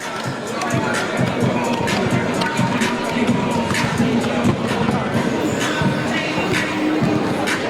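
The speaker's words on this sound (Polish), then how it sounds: "zobaczcie sami, jaki jest tłum, tłum kibiców" A large crowd of volleyball fans fills an indoor arena during a match in Gorzów, a steady roar of babble and cheering with scattered claps and shouts throughout.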